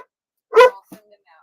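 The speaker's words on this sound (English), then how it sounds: "My dog's going crazy." A dog barks sharply at visitors arriving at the front door, one loud close bark followed by a couple of faint short yips and sounds.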